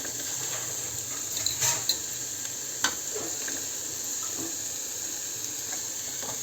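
Carrots and beans sautéing in a pan give a steady, moderate hiss with a few brief stirring clicks and scrapes, close by and with no talking.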